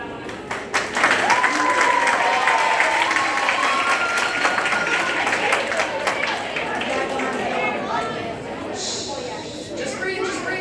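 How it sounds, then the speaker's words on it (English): An audience at a school theatre awards ceremony claps and cheers loudly for several seconds, with whoops rising above the applause, before it thins into scattered clapping while people talk. "y'all can clap for that one"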